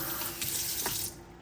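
Water streams steadily from a newly installed kitchen sink faucet in a loud, close, hissing splash, then cuts off near the end as the flow is paused.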